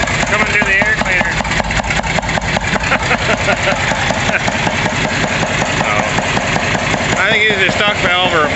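A John Deere 4010 tractor idles loud and close with a stock intake valve, a steady rapid chugging beat throughout, while someone talks over the engine at intervals.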